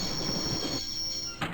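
A train grinding to a halt in the Broken Sword video game, a steady metallic rumble with a high squealing wheel tone, then a brief clunk near the end.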